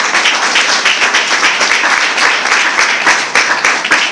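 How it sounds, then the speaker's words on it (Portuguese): A church congregation claps hands during a children's sermon, loud and dense, in a fast, steady rhythm with many claps overlapping throughout. "As palmas louvam o Senhor."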